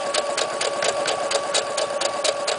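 A sewing machine stitches a quilt in a steady, continuous run, its rapid mechanical clatter pulsing evenly and close throughout with no voices.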